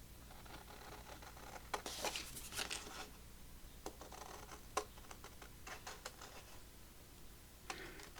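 Scissors snip through a paper journaling card in a quiet room, a scattered series of faint crisp cuts and small paper rustles with short pauses between them, close to the microphone.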